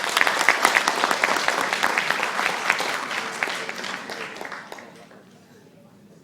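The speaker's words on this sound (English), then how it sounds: "Give them a round of applause." Audience at a Toastmasters installation night applauds steadily, dense clapping holding loud for about four seconds before thinning and fading out.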